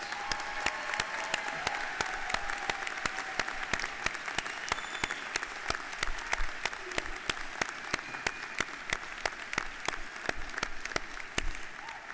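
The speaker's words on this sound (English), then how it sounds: "Please join me in a round of applause for all our master's candidates" Sustained audience applause at a SUNY Oneonta School of Sciences commencement ceremony for master's degree candidates, steady dense clapping from a large crowd filling the hall for the whole stretch.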